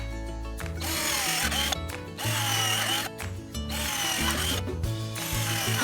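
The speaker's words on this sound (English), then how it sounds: "I cut the wood, did a test fit, and pre-drilled it to make it easy to install." A power drill pre-drills a wooden rail for an RV trailer, whirring in several short bursts with brief pauses between them, close and fairly loud, with no talk.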